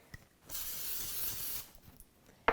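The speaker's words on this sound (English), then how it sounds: "Take an 8x8 baking pan and spray it with cooking spray." A steady hiss of aerosol cooking spray sprayed into an 8x8 baking pan, lasting about a second, close up, followed by a few small clicks and a sharp knock.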